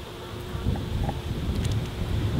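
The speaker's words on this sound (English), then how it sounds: "a couple of little bees having a look at me there" Steady low honeybee buzzing close by during a hive inspection, continuous with a light rustle, like several bees hovering near.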